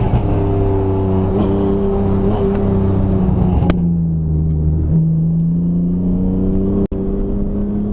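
A race car laps Dominion Raceway with a steady, loud engine drone that holds pitch, dips as the driver lifts off, then climbs again, with a sharp click near the end.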